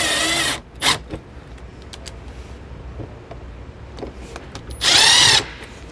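A power drill drives screws into a double rocker switch cover on a 2022 Grand Design RV, two short whirring bursts at the start and end with quiet between.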